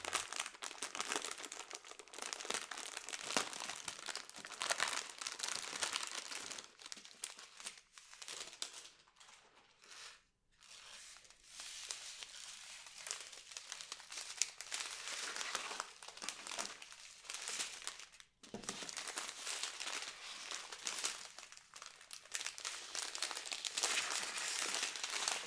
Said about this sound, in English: So let's get the beads out of the packaging.